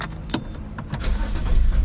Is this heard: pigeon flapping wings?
no